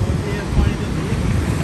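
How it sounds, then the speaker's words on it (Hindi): Floodwater at Head Marala, Sialkot, roars steadily and loudly as a broad, unbroken rush mixed with wind buffeting on the microphone. "पानी का जो शोर है ना वो बहुत ज़्यादा इतने भी आ रहा है"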